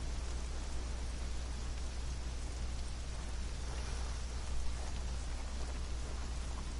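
Steady rain falls in the survival game Conan Exiles, a constant even hiss of downpour at moderate volume with no voices.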